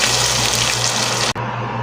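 Water pours into a pot of chicken sotanghon with sautéed garlic, onion and chicken, a loud steady gushing splash close up that cuts off briefly near the end before resuming.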